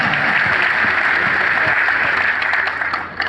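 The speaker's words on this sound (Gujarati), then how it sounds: "એક વખત તાળીઓથી વધાવે એમને બધા" An audience at a Tiranga Yatra gathering in Nadabet breaks into loud, sustained applause, a dense wash of clapping that holds steady before easing slightly at the end.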